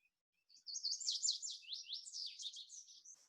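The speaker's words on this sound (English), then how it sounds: "This bird is an exuberant singer." A songbird of open shrubby and oak hillsides sings one exuberant, continuous phrase mixing high whistles and buzzy trills, fairly close and alone, lasting about three seconds.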